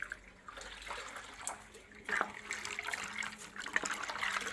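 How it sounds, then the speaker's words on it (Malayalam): Water pours into a pot for cooking tapioca, a quiet, irregular trickling and splashing that builds slightly in the second half, close but faint, with no talking. "ഇച്ചിരി വെള്ളം കൂടെ ഒഴിച്ച് നമുക്ക് കുക്കിങ്ങിന് ആവശ്യമുള്ള വെള്ളം"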